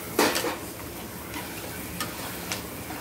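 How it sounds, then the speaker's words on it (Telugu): Eggs frying in a pan with chilli and salt, a soft steady sizzle broken by a few sharp clinks of a spoon against the pan, close and quiet with no voices. "ఈ గుడ్లకి కారం ఉప్పు ఇవన్నీ బట్టిగా ఫ్రై చేసుకోవాలి"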